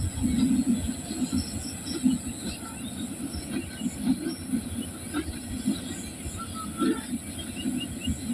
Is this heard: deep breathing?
no